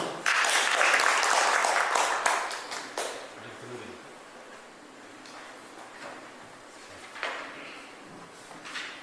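Attendees of a Korean university sports forum applaud to welcome a presenter. The clapping is loud at first, then thins and fades to a scattered patter over several seconds.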